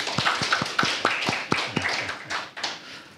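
Workshop participants clap their hands in a quick, steady burst of about a dozen sharp claps, close and fairly loud, with no voices over them.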